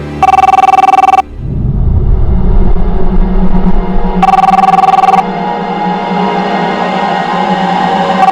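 An office telephone rings at home in two loud electronic bursts, roughly one second each and spaced a few seconds apart, over a steady low hum and background noise.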